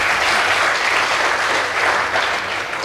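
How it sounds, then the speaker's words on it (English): A crowd claps for the Mbooni girls debate team after the judges' score is read, giving a sustained, dense round of applause from many hands, moderately loud and steady throughout. "Please give Mbooni a clap."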